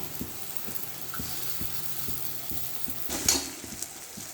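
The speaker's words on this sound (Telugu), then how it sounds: "పేస్ట్ చేసి ఆనియన్స్లో వేస్తాం" Onion paste frying in a pan for dhaba-style chicken, with a soft, steady sizzle and regular light taps from stirring, faint and close, plus one brief louder scrape near the end.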